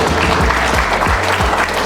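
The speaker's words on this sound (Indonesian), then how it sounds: "Tepuk tangan untuk Desa Wisata Repang Muaif." A crowd claps for the Repang Muaif tourism village, dense, loud applause filling the whole stretch with no voices over it.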